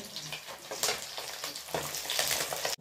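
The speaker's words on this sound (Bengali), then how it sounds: "ছোট মাছগুলো ভাজা হচ্ছে" Small fish sizzle and crackle steadily in hot oil in a home kitchen pan, with the frying close and continuous and swelling in bursts, and no voices over it.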